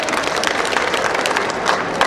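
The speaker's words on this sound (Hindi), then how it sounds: "एक बार जोरदार युवाओं के उसमें ताली बजाइए, जोरदार जोरदार ताली बजाइए।" A rally crowd applauds in a dense, continuous burst of many hands clapping together, loud and close, lasting about two seconds.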